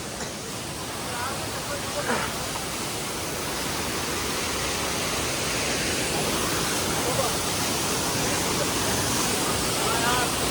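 A steady, broadband roar of rushing water from Kimadi waterfall near Dehradun close by, constant throughout with faint voices barely audible beneath it.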